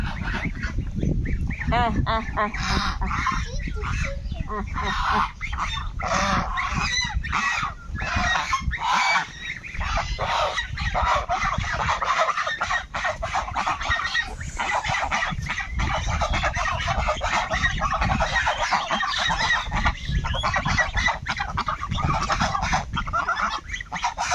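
Domestic geese at feeding time make a loud, continuous chorus of overlapping honks and cackles, close by and steady throughout.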